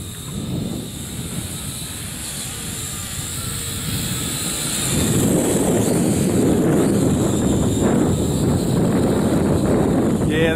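Wind buffets an outdoor microphone in a low, rough roar that strengthens partway through and stays loud, with a faint high whine from a small X10 quadcopter in the background.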